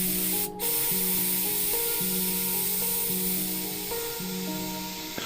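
A Paasche VJR 0.25mm airbrush sprays thin paint in a steady, close, continuous hiss with a brief gap early on, while faint tonal background music runs underneath.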